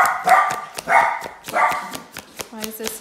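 A dog barks in a quick series of loud, close yaps, roughly five or six sharp bursts spread across a few seconds, with a person's voice faintly underneath.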